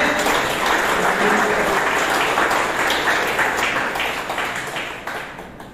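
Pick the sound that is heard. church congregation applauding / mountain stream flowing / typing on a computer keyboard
church congregation applauding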